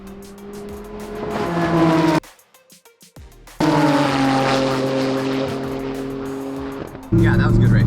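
A 1,050-horsepower Audi R8 race car roars along a track with tires squealing, its engine loud and sustained, cut by a short near-silent gap before the roar returns.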